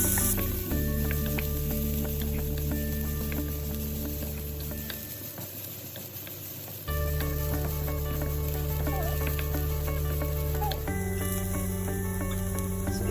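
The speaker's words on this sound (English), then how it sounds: "Just light saute we need to do. We don't need to go to golden brown for this." A quarter cup of onions gently sautéing in a pan for chickpea corn sliders, a steady close sizzle and hiss with occasional stirring, continuous throughout with a brief dip in the middle.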